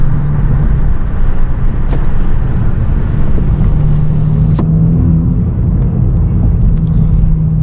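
A 2017 Honda Civic Si rolls along in third gear, its engine and road noise making a loud, steady rumble from inside the cabin, with a few faint clicks and no talk.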